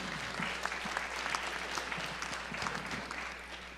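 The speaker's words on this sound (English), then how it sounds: "give this man a round of applause" An audience at a town hall claps steadily, a dense wash of many hands with a few sharper individual claps standing out, sustained and fairly close.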